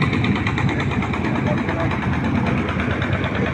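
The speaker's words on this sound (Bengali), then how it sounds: "এই যে দেখুন লঞ্চ আসতেছে বগা ফেরিঘাট।" A ferry launch engine chugs at a steady, close, loud rumble as the boat arrives at Boga ferry ghat, a continuous low drone with no break.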